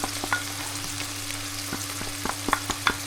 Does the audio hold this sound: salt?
yes